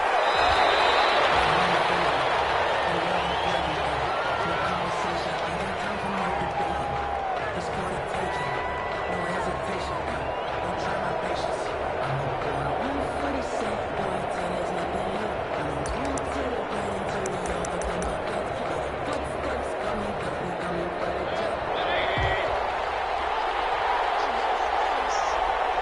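A stadium crowd roars in a video game NFL match between the Minnesota Vikings and the Detroit Lions. The steady, broad murmur and cheering runs beneath continuous play-by-play commentary.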